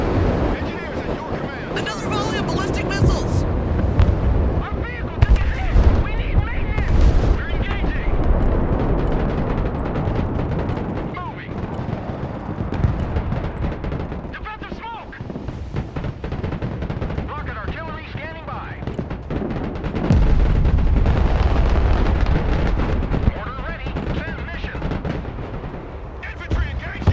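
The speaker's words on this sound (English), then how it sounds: "Another volley of ballistic missiles! Our vehicle took a hit!" Ballistic missile volleys and gunfire in the military video game Broken Arrow bring heavy booms, rumbling impacts and crackling shots in dense, loud bursts. Radio-style voices speak over the continuous battle noise.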